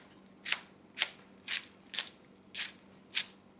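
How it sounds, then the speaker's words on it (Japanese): Six crisp knife strokes against a cutting board at a market in Siracusa, Sicily, evenly spaced about half a second apart, close and fairly quiet with no talking. "こんな細かくここの包丁で切れるかどうか。"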